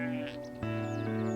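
A single sheep bleats close by in a tall-grass pasture, giving one drawn-out, wavering call that lasts just over a second.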